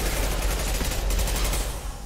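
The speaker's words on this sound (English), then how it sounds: "Firing an impact gun!" Impact gun in the Mass Effect 2 video game, firing in rapid sustained bursts with heavy booming blasts that run together in a dense, loud barrage.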